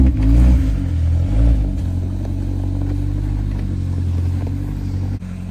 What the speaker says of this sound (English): Matt's trying to get the Miata in the garage.